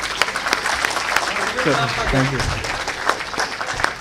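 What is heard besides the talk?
audience applauding at Chemcon 2022 event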